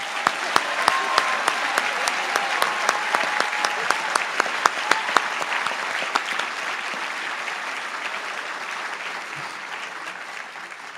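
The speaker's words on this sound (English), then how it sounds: "Can we please just have a round of applause for this year's SEC?" A school closing-ceremony audience applauds steadily for several seconds, with dense clapping and a few sharp claps standing out, gradually thinning toward the end.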